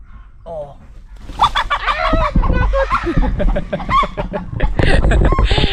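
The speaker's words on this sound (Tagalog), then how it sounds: "Natakot yung manok." A startled chicken clucks in a rural village, a burst of sharp, agitated calls close by that builds into loud, busy squawking, with other noises mixed in around it.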